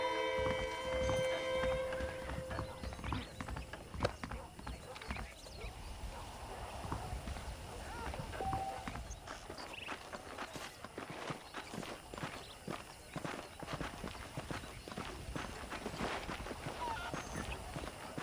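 Saddled horses trotting in the Western video game Red Dead Redemption, a steady clip-clop of hooves moving along at a moderate distance, with a brief voice near the start and faint ambient background throughout.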